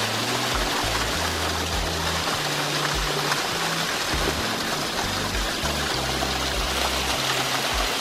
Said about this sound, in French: Ah, ça fait une belle petite cascade. Et ça coule plus qu'il y a 2 minutes.